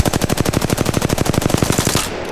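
An R-301 rifle firing full-auto in Apex Legends: a fast, even stream of about two dozen sharp, loud shots lasting roughly two seconds, then cutting off abruptly, with no voices.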